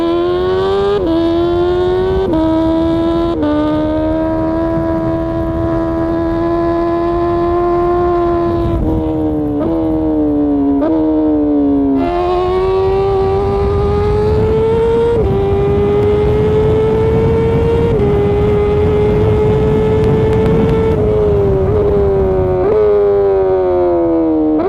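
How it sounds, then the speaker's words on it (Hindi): A motorcycle's exhaust revs up and down through repeated swells and drops in pitch, loud and close, with no talking, and sounds like it is shifting gears. "और अब हम सुनते हैं इस बाइक के एग्जॉस्ट नोट को।"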